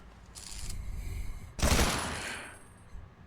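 Gunfire in the video game Beyond Enemy Lines 2, a short muffled burst followed by a louder, sharper rattling volley that rings out and fades, no talking over it.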